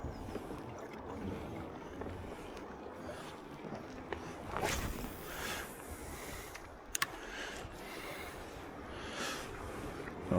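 A life jacket zipped up while sitting in a kayak on calm sea water, with several short zipper rasps and soft rustling over light wind noise.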